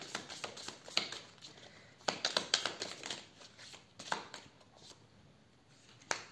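Tarot cards shuffled by hand in a quiet room, a run of soft riffling and slapping bursts with brief pauses between them, close and moderately quiet, with no talk.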